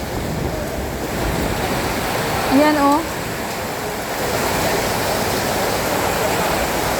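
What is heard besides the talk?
strong typhoon wind and rain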